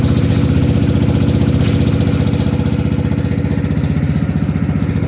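A Rusi Flash motorcycle engine idles steadily after being kick-started, a dense, even low putter running close and loud throughout with no voices over it.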